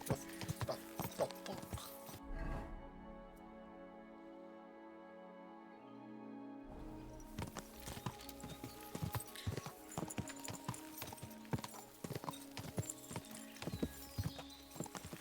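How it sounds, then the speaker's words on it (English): Rhythmic clip-clop of horse hooves trotting steadily through a town in the video game Kingdom Come: Deliverance 2, over a busy game soundscape, with a brief quieter stretch of music in the middle. "Riding my horse around town."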